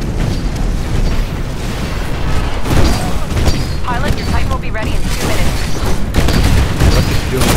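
A doomed Titan mech in the video game Titanfall blows up amid battle, heavy booms and rumbling blasts mixed with gunfire and mechanical clatter, loud and dense throughout.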